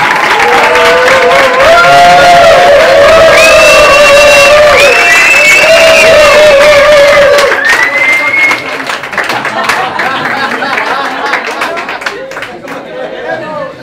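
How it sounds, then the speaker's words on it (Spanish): A stand-up comedy audience applauding and cheering loudly for a comedian, sustained clapping with whoops and shouted voices for about eight seconds, then tapering to scattered claps and chatter. "Darle un aplauso muy fuerte a Adriana"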